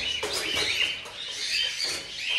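Small birds chirp and tweet around backyard feeders and nest boxes in a busy overlapping chorus of short calls, steady over a soft outdoor background, with no talking.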